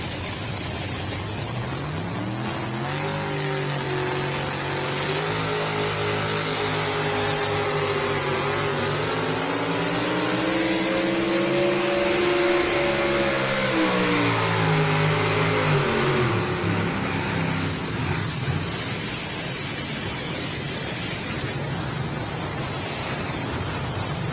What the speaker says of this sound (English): We heard those turbines starting to spin up down there